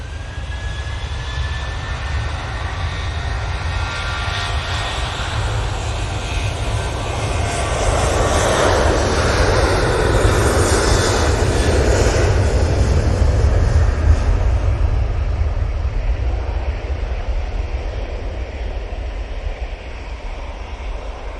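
Airplane departing Manchester Airport for Prague, a loud continuous jet engine roar that swells to a peak mid-way and then slowly fades, heard alone without talk.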